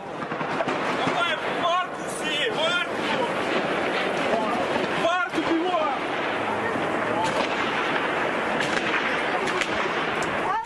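Chaotic outdoor din in Kyiv during a drone attack, with bangs and popping blasts amid shouting voices and crowd noise, continuous and loud throughout.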